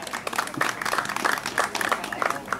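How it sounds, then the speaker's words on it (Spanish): An audience at a Christmas tournament uniform handover in Apastepeque claps warmly, a brisk, continuous patter of many hands at moderate volume, with some voices mixed in. "Fuerte el aplauso"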